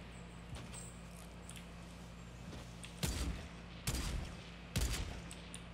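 Three sharp sniper rifle cracks from a Fortnite Battle Royale match ring out at spaced intervals, each a sudden loud burst over a steady low game hum, with no talk in between.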